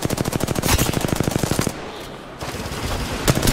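Rapid automatic gunfire in the battle royale video game Apex Legends, a dense burst of evenly spaced shots that stops abruptly, followed by quieter game ambience and a final short crack.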